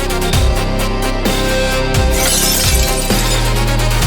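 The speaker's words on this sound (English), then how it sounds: "Pieces of glass are flying everywhere." Glass shatters loudly in a museum during a gunfight, a sustained crash of breaking panes with scattered tinkling fragments and several heavy thuds underneath, filling the scene with no voices.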